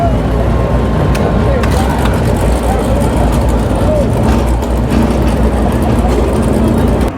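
Race car engines fired up at a track near Nashville: a loud, steady, rumbling roar of several motors running together throughout, heard close and with people talking underneath.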